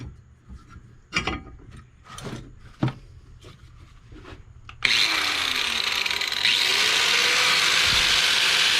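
A power tool cuts a pin for a knife handle: a few sharp knocks and taps come first, then the tool starts with a sudden steady high whine that runs close and loud to the end.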